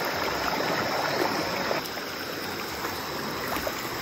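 River water flowing through a forest, a steady, even rush and trickle that stays constant and moderately close with no voices.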